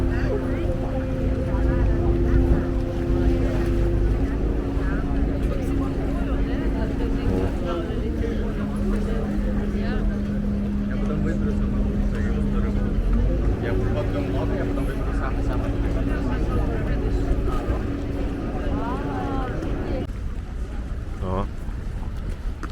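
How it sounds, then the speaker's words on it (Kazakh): Motorboats and water taxis on a canal in Venice: a steady engine drone that shifts pitch as boats pass, with water and wind noise, while people talk throughout. "Қайықтар, кетіп барған такси."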